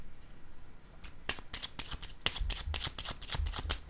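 A deck of tarot cards is shuffled close by, with brisk, repeated riffling bursts and soft slaps that grow busier over a few seconds, with no voices.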